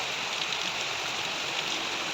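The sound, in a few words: heavy rain pouring down outside a window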